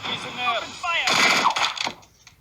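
Rapid bursts of gunfire from the Henry Stickman video game hit the players. The shots are mixed in with voices and laughter.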